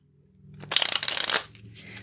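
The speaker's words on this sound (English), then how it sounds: "Let's shuffle." Lenormand fortune-telling cards are shuffled by hand in a short riffling burst lasting under a second, close and fairly soft, after a quiet start and before a hushed tail.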